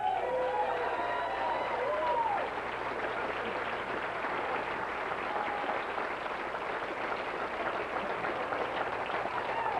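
Steady applause with some cheering from the audience at a 1992 True Value candlepin bowling championship, a dense, even wash of clapping lasting the whole stretch, with faint voices beneath.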